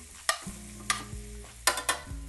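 Slender haricot vert beans cook in a pan, with a low steady sizzle under a few sharp utensil scrapes and clacks as they are stirred.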